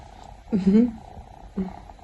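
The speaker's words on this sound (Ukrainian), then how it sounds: "Вже спить, вже муркоче, вже така няшка, не кусається." A cat purring at close range in a home, soft low rumbling bursts with a short gap between them.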